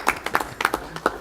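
Brief scattered clapping from a small group at a school committee meeting, a handful of sharp, uneven claps close by over a quiet room.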